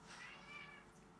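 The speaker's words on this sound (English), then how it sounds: "I don't know if they can hear them meowing" A pet cat gives one drawn-out, wavering meow indoors. It is faint and heard alone, with no voices.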